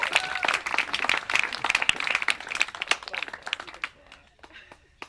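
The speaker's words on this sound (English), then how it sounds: "Another round of applause, please." Wedding guests clap after a speech, brisk individual claps ringing out over a high tonal sound, then tapering off into near quiet with a few scattered claps at the end.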